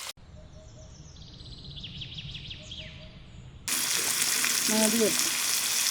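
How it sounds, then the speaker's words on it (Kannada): Village food roasts in a pan with a steady natural sizzle, growing louder and brighter partway through, while birds chirp faintly in the background. "ಆ ನ್ಯಾಚುರಲ್ ಚಿಸ್ ಅಂತ ಸೌಂಡ್ ಬರುತ್ತಲ್ಲ ನೋಡಿ"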